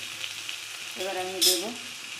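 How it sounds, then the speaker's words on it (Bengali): Potato and eggplant pieces fry in oil in a pan with a continuous close sizzle, while a brief tonal hum rises over the hiss midway through. "আলু বেগুনটা একটু ভেজে নেব।"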